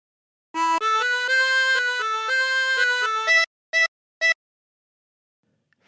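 A phrase of "Bella Ciao" played on a 20-hole tremolo harmonica, heard up close with bright, wavering reedy notes in a short melodic run. Two brief separate notes follow, then silence.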